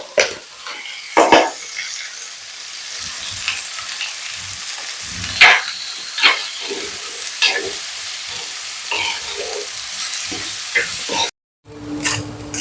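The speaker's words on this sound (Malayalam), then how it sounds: "ഇനി ഉള്ളി ഒന്ന് മൂക്കാനായിട്ട് കുറച്ച് ഉപ്പിട്ട് കൊടുക്കാം നമുക്ക്." Onions frying with salt in a pan for a Kerala-style onion theeyal crackle and sizzle steadily, with stirring scrapes throughout and a brief pause near the end.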